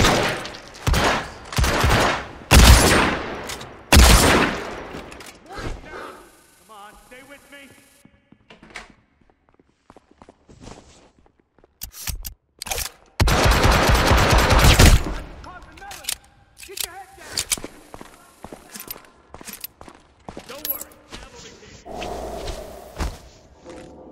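Bursts of automatic gunfire crackle through a police shootout in the Hitman Absolution video game, loud volleys separated by quieter stretches, with shouted voices and footsteps among the shots.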